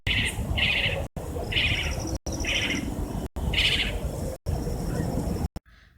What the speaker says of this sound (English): That was the sound of the spotted owlet.